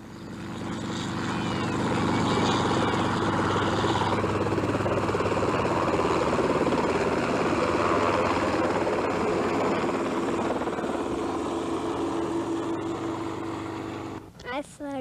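A steady, loud helicopter engine drone and rotor roar fills the clip from start to finish, with a voice briefly audible near the end.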